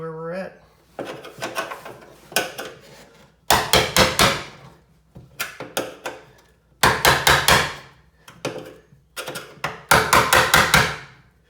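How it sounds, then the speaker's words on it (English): Repeated sharp metallic strikes come from chiseling through the metal body of a Jeep, arriving in clustered bursts of several rapid blows separated by short pauses, loud and close. "So we're gonna give it a little chiseling"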